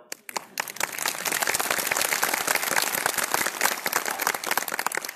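Loud, dense clapping from an audience at a motivational program, rising quickly and holding steady throughout.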